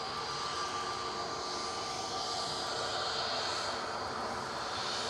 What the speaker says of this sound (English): Virgin Flight 86 coming in from Las Vegas. This is an A350 1000 GVELJ.